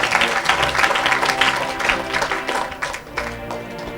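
Applause from a church congregation during a lively French-language worship service, dense continuous clapping filling the room at steady loudness for a few seconds with crowd noise mixed in.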